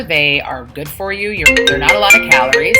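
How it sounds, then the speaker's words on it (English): A phone ringtone chimes in a melodic repeating pattern, loud and close, sounding over and behind someone talking. "that was a phone ringing in the middle of my video"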